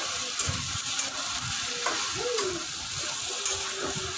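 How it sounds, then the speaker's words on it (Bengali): Okra (bhindi) frying in a home kitchen pan, a soft continuous sizzle with occasional stirring scrapes and faint clinks, fairly quiet and close, with a brief background tone partway through. "আজ আমি এখানে ভেন্ডিটা ভাজি করে নিচ্ছি"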